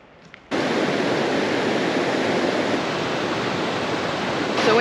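Rushing water at a stream spa starts abruptly and then pours steadily as a loud, close, broadband roar for several seconds, with no voices.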